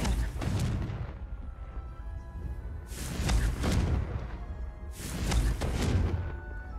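Explosions from the Confringo spell in a video game, three broad booming blasts spaced about two seconds apart over a continuous rumbling backdrop, loud and close.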